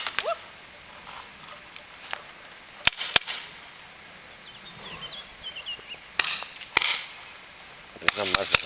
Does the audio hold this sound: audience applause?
no